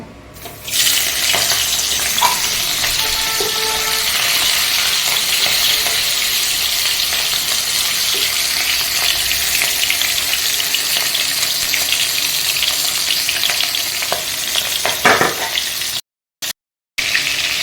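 Four large hilsa fish heads fry in hot oil with a loud, steady hiss and crackle that runs unbroken for most of the stretch, then cuts out abruptly near the end.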